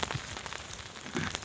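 Rain falls on an outdoor field and pond embankment with tamarind trees nearby, a steady close patter of drops filling the short stretch with no talking.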